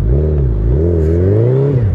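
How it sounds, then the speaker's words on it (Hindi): A motorcycle stuck deep in mud revs hard, its engine droning loud and close in a steady, wavering pitch as the rear wheel spins and throws up dirt, with no talk over it. "बॉर्न आउट मार रही है पीछे से ही मिट्टी पे मिट्टी उड़ा रही है"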